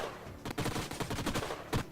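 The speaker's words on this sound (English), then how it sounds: "those guys decided to move and are taking the gunfire from that." Gunfire crackles in the video game Age of Wonders: Planetfall, a dense rattle of rapid shots and bursts that keeps going, loud and close, with no talk.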